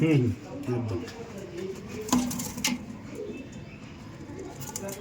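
Andhra pigeons coo softly in a loft, low rounded calls under a man's nearby speech, with a couple of sharp knocks and flutters partway through.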